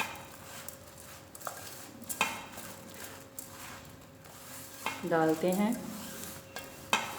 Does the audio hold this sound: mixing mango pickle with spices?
yes